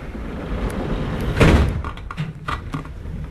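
Budapest metro M3 train doors sliding shut with one muffled thud midway, set against the continuous rumble and clatter of the carriage interior.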